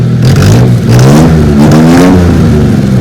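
An old motor tricycle engine revs hard and steadily, a loud, close, rattling drone that rises and falls slightly, with no voices.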